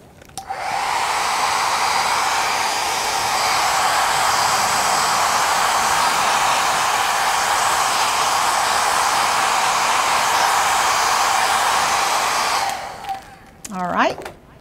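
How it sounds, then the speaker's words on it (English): Hair dryer blowing for about twelve seconds to dry a still-wet acrylic painting at a paint night, a loud, steady close-up roar that cuts off, followed by a brief voice. "I think I'm gonna take a hairdryer to mine real quick because mine's still a little wet."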